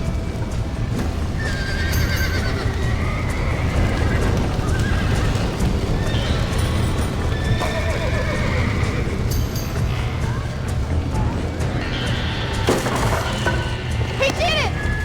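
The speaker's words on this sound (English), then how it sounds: "Now get the horses out!" Horses whinny repeatedly over steady clip-clopping hooves in the video game Red Dead Redemption, loud and close, with faint voices underneath.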